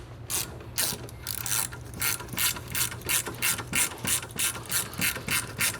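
Close, crisp ratchet clicks come in quick bursts as a steel bolt is wound into an aluminum control arm during a BMW E90 coilover installation; steady repeated strokes, fairly quiet, with no voices.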